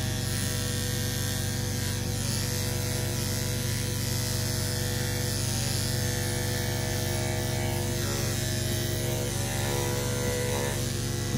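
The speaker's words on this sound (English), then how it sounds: "I take the clippers and go against the grain and stop where the bone stops" Electric clippers trimming a schnauzer's fur against the grain during home grooming, a steady close buzzing hum that runs unbroken and fairly loud throughout, with no talking.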